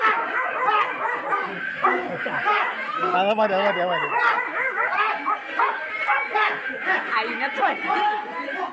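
Recorded dog sounds, barking, yipping and whimpering, play during a one-actor stage drama about stray dogs, mixed with constant voices and chatter from the performance.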